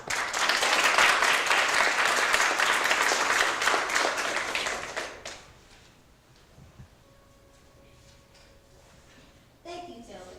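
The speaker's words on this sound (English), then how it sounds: "Let's give all of our judges and our timekeeper a round of applause." An audience at a university speech contest gives a round of applause for the judges and timekeeper, a full steady wash of clapping that fades out midway, leaving a quiet room with faint tones and a brief knock near the end.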